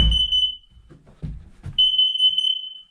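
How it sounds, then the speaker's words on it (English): Carbon monoxide sensor alarm set off by E85 fuel fumes, a loud piercing electronic tone that cuts out briefly under a few low thumps and handling noises, then resumes steadily. "the E85 is so strong, dude. It sets off my carbon monoxide sensors"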